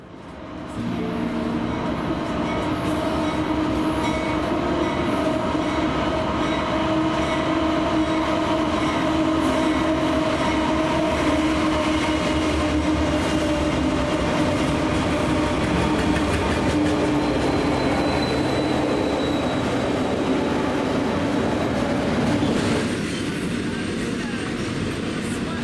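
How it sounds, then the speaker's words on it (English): Union Pacific Z freight train led by two unrebuilt AC44 locomotives and an SD70M rolls past near Kansas City, a loud, steady rumble and rail clatter sustained throughout with a brief higher tone late on. "UP sent yet another train, this time being the ZG4CI with quite a consist featuring 2 unrebuilt AC44s and an SD70M"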